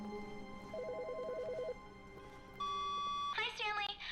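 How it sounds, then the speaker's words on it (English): Office desk phone in The Stanley Parable giving a chirping electronic ring, preceded by a warbling tone and followed by a long steady beep, over low room ambience with a voice speaking briefly. "Phone ringing."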